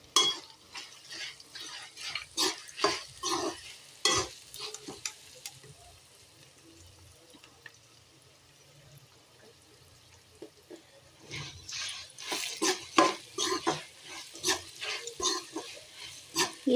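Spices and turmeric powder frying in oil in a pan for lemon rice, with bursts of crackling sizzle and scraping stirring strokes near the start and again toward the end, quieter in between.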